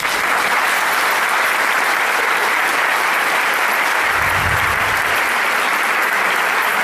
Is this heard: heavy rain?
no